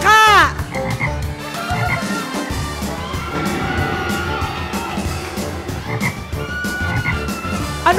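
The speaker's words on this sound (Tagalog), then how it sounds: "Frog! Frog! Palaka." Frog croaking on a Filipino variety show game segment, a loud croak at the start and again near the end, over a busy bed of music and studio crowd noise.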